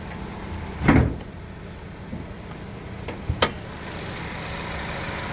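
A 2009 Nissan Qashqai+2 4x4 engine, gas-fuelled with an automatic gearbox, idles steadily in the background, interrupted by a couple of sharp knocks and clunks.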